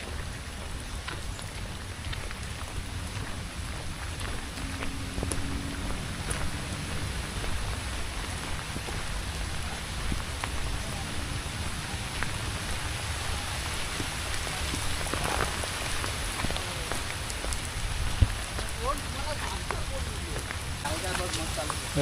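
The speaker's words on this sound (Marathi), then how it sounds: "आणि पाऊस पण एकदम रिमझिम पडतोय बारीक बारीक" Light drizzle falls steadily over the Vashi creek shore in Mumbai during crab catching, a soft, even patter that stays constant and close throughout.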